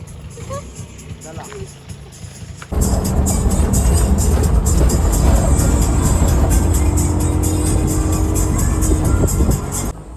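An auto rickshaw ride from a cafe back to a resort near Achra. It starts with a quieter roadside scene, then from about three seconds a loud, steady engine drone and road rumble fill the clip until the end.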